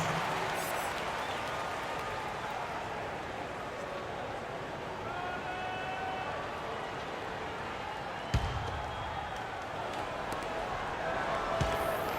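A basketball arena crowd during a Mavericks versus 76ers game gives a soft, steady wash of applause and murmur for the dancers, heard faintly and distantly with an announcer speaking and a couple of sharp thumps.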